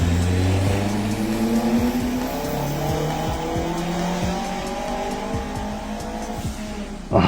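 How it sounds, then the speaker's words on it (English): A turbocharged 1997 Mazda Miata driven hard on a track, its engine note rising and falling through gears with tire squeal, loud and close with no talking. "next we got Bravo with their 1997 Turbo Miata"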